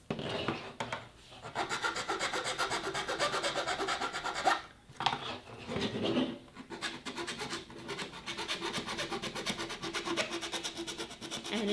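Hand filing a beveled edge on a Han Solo blaster prop, a steady rasping scrape repeated in continuous strokes, close and fairly loud, with a brief pause midway.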